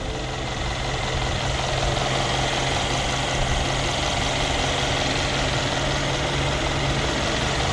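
Mercedes-Benz S550 4Matic V8 engine idling steadily, a constant low rumble with a faint hum, close and alone with no talk.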